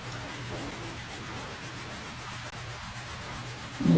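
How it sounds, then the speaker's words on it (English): A French polishing pad rubs shellac with walnut oil into a wood surface, making a soft, steady scrubbing swish close by as it is pressed hard back and forth, with a brief louder bump at the end. "And just kind of burnishing that finish into the surface"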